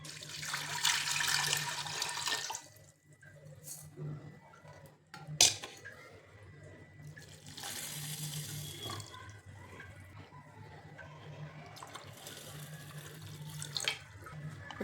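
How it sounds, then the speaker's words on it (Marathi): Water is poured into a pressure cooker holding a stand, in a home kitchen. There are three separate pours of splashing water, with quiet gaps of faint clinks and dish sounds between them. "त्यात पाणी घालायचे"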